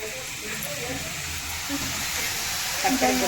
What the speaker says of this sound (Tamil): வதங்கிட்டு இருக்கு வெங்காயம், பச்சை மிளகாய்.